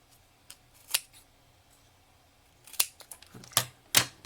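Scissors cutting paper for a handmade card, a few isolated crisp snips followed by a quicker cluster of close, sharp cuts, with quiet pauses between.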